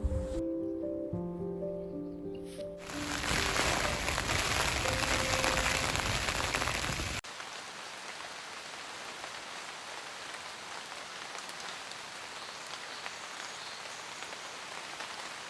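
Light drizzle falls outdoors at night on the West Highland Way, a steady soft hiss of rain that takes over after a brief tonal passage and continues evenly to the end.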